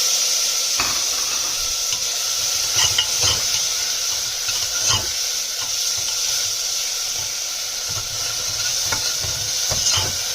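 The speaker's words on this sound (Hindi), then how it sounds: "अब इसको हम पहले जिंजर गार्लिक पेस्ट और मसालों को अच्छे से भूनेंगे।" Ginger garlic paste, spices and tomato sizzle and fry in a pan, with a steady hiss and scattered scraping stir strokes throughout, close and fairly loud, no talking.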